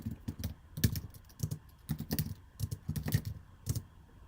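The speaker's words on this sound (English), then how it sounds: "Work with me here, keyboard." Fingers tap on a computer keyboard in quick irregular bursts of close, crisp key clicks, with brief pauses between the runs of keystrokes and no voice over them.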